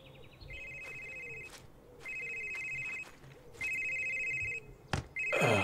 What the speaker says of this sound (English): I guess we should answer the phone.